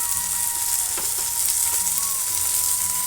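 Sweet corn with boiled beans and carrots stir-fried on high flame for veg fried rice, a loud, close, continuous sizzle with occasional stirring clatter and a faint tonal hum underneath.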